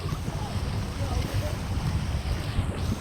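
Strong wind buffets the microphone in a continuous low roar on a seaside boulevard, with a faint voice partly buried beneath the rumble.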